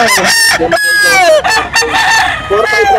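A rooster at a gamefowl market in Grotto, Bulacan crows loudly and close, in long drawn-out calls with some clucking, while someone talks briefly between the crows.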